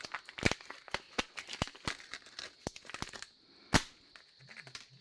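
Scissors cutting open a plastic packet of purple glow pigment, a run of sharp crinkles and snips close up, with one louder crackle near the end before it falls quiet.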